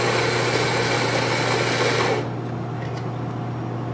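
A Rancilio Rocky espresso grinder grinding coffee beans, a loud steady motor whine for about two seconds that then cuts off, leaving a low hum.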